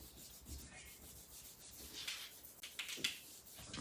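Paper being rubbed firmly by hand over an art print made with alcohol markers and PanPastel, a soft continuous scraping that swells and fades in irregular strokes, growing louder at the end.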